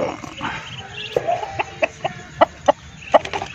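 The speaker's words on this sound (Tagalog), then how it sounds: "dito'y una nating pakainin ang ating mga tandang" Roosters cluck and call at feeding time. The sharp, near calls come in an irregular run of about half a dozen bursts over a faint background bustle, and no one speaks.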